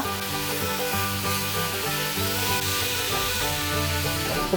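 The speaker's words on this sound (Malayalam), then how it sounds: "എന്നിട്ട് നന്നായി ഒന്ന് ഇളക്കി കൊടുക്കുക." Potato, carrot and cooked peas stirred in a pan, a low continuous sizzle with soft scraping and rubbing of the spoon over a steady background hum.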